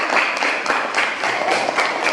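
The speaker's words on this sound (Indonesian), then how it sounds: "Kita sekali lagi memberikan tepuk tangan untuk mereka." Applause from a classroom of children for a student group after its presentation, a dense, steady patter of many small hands lasting throughout at moderate volume.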